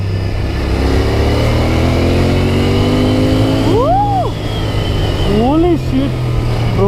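A Royal Enfield Continental GT650 twin-cylinder motorcycle riding along with a steady low engine drone and rising revs, with wind noise and someone talking over it.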